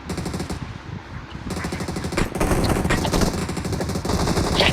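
Rapid automatic gunfire from a shooting video game rattles in dense, loud bursts that run almost without pause. No one speaks over it.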